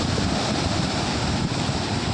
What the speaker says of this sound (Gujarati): કેવા મોજા ઉછળે છે આ મસ્તીનો દરિયા કિનારો છે